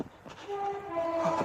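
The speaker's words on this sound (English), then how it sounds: "a train finally caught on camera" A passing train sounds briefly at a distance, its horn tones holding steady over rumble and clatter.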